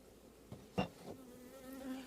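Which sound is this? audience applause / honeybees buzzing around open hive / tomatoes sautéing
honeybees buzzing around open hive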